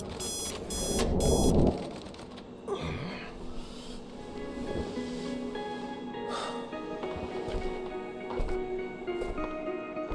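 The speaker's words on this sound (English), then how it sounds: "That's our alarm." Electronic alarm clock in the game The Operator rings in a few rapid bursts of beeping at the start, then stops, leaving quieter ambient tones and soft scattered noises.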